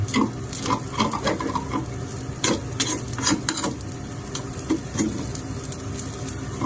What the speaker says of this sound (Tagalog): Luto tayo ng fried rice mga kabaro